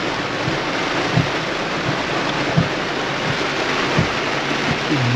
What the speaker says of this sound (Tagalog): Ay grabe, muulan talaga,